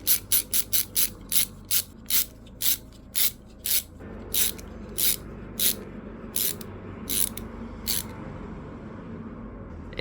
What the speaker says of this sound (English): grab yourself an M3 by 40 bolt, as I have here, and thread it into this hole here at the bottom